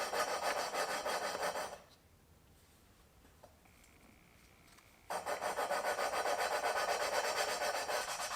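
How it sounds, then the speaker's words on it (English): Engine valve being lapped by hand with lapping compound during an LS engine swap on a Camaro, a loud steady gritty rubbing that stops for a few seconds and then resumes just as strongly. "The valve's going to start getting quiet once that compound works its way out of there."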